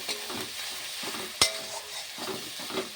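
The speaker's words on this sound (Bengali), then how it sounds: "আর দিয়ে দেবো 1 চামচ জিরে পাউডার। এগুলো ভালো করে আমি মিশিয়ে নেব," Chili and cumin powder being stirred into chicken in a hot pan, a low sizzle with scraping strokes of the spoon and one sharp clink of utensil against metal partway through.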